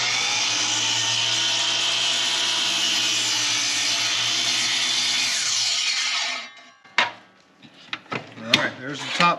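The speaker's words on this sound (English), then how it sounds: "and then we'll start cutting studs" Wooden studs being notched while framing an off-grid home, with a long steady saw run lasting several seconds, close and loud, then broken knocks and scrapes of wood as the cut ends.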